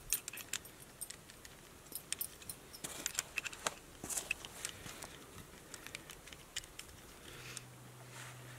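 Hose clamps tightened on a well pump at an off-grid cabin produce a run of small close metallic clicks, ticks and rattles at an irregular pace, with a faint low hum near the end.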